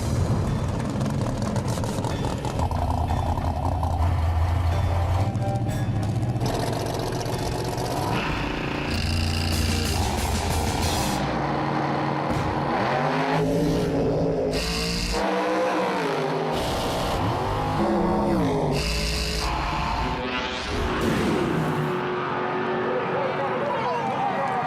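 No-prep drag race cars Godfather and Swamp Thing launch and race, including a 1962 Bel Air, with loud roaring engines that rev and shift in pitch throughout, dense and close, mixed with crowd noise and a voice talking over it.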